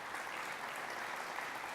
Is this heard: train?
no